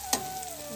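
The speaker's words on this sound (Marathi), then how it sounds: "कांदा असं चांगला परतून घ्यायचा." Onion sautéing in a pan, a brief close sizzle with one sharp stir or scrape near the start over a steady frying hiss.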